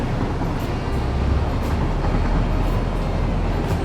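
A train in the Satisfactory video game rumbling along its track, a steady, continuous low mechanical roar with faint rhythmic clatter, loud and even throughout with no talking.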